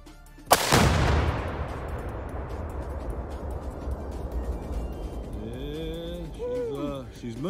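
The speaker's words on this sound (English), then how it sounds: "Okay, fire at will, bud." A single loud gunshot is fired at a tree outdoors and trails off into a long decaying echo. Afterward faint birdsong and quiet talk can be heard.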